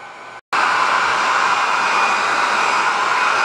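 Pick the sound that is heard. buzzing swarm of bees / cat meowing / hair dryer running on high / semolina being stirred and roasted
hair dryer running on high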